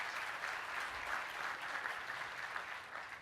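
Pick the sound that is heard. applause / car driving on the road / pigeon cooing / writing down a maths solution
applause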